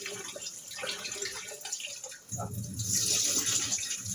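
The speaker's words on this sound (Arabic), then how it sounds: "انا كده غسلت الرز" Rice being washed in a stream of tap water at a kitchen sink, a steady close splashing and trickling that grows louder and fuller in the second half.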